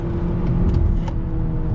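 A 2021 Hyundai Elantra engine revving hard near 4,500 rpm, a loud, steady interior drone with road rumble underneath, sustained without any talking.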